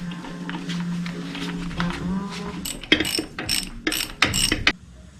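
A hand ratchet clicks in bursts while tightening a bolt on the driveline brake of an '88 Chevy P30 RV, sharp, close pawl clicks in several quick runs after a stretch of low background hum.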